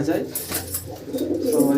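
Tournament pigeon cooing in a low, throaty series close by, mixed with background chatter and other bird sounds.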